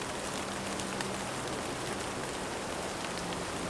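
Rain pours steadily in the Sherlock Holmes Versus Arsène Lupin video game, an even wash of droplets hissing on hard ground with a faint low hum beneath, constant throughout.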